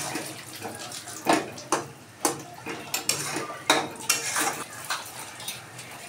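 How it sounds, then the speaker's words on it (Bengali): Spicy home-style chicken being stirred in a pan for kosha, with a utensil clinking and scraping against the metal in irregular, fairly loud strokes over a low background hiss. "এবারে দিয়ে দেবো মাংসটা দিয়ে ভালো করে এবার কষাবো"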